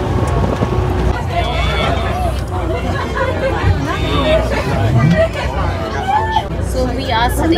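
A passenger ferry ride in Hiroshima toward Peace Memorial Park carries a steady wash of engine and wind noise under continuous crowd chatter and nearby talking voices throughout.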